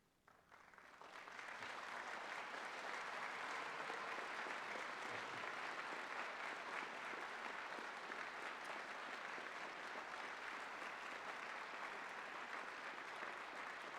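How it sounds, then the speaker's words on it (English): A graduation audience applauds at a physics commencement at Berkeley, a dense, sustained wash of many hands clapping that swells in after the first second and holds steady and loud to the end. "the applause was meant to be for the other way around"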